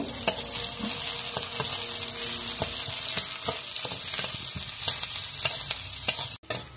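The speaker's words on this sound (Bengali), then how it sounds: "তেল গরম হয়ে গেছে, এখন জিরে ফোড়ন দিয়ে দিচ্ছি তেলের মধ্যে। পেঁয়াজ কুচি দিয়ে দিচ্ছি।" Chopped onion and cumin seeds hit hot oil in a pan for a Bengali chana dal with pointed gourd, giving a steady, close sizzle with scattered stirring clicks and scrapes throughout.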